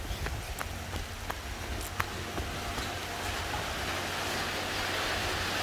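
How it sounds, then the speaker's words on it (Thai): Rain falls in a steady, dense hiss with occasional sharper drops and taps, continuous and fairly even throughout, with no talking. "ฝนตกฝนตกพี่น้องเปียกเปียกเปียกเปียก"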